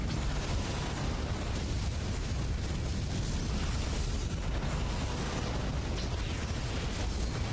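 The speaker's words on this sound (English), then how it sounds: "Borg vessel destroyed." A Borg vessel exploding in the video game Star Trek Legacy: a dense, continuous rumbling blast with crackling bursts that holds loud and steady for several seconds.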